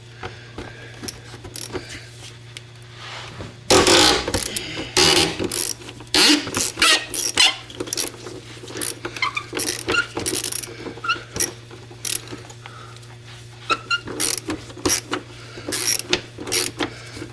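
Ratchet on a wobble socket working a 13 mm bolt under a Mercedes 300D during a transmission replacement, giving repeated bursts of close metallic clicking and clanking with short pauses between strokes.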